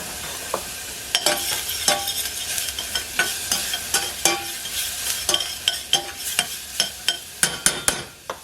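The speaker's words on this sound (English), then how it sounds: "Cook it, stir it so it cooks, but it does not get brown if you have to lower the fire." Onions soften over moderate heat in a pan for a vegan white sauce, a low sizzle under repeated rhythmic scrapes and taps of a spoon stirring, close and fairly loud, with no talking.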